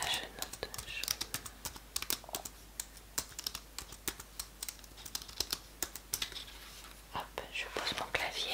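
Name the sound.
typing on a keyboard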